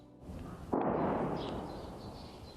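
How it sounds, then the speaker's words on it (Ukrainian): An artillery shell strikes near Avdiivka with a single sudden heavy boom that rolls into a long rumbling decay, heard at a distance over a low background rumble. "Зараз по ним теж летить. Ось це приліт"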